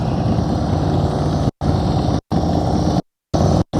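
A motorcycle engine holding steady, constant revs during slow-speed riding practice, a continuous close drone broken by a few abrupt cuts to silence.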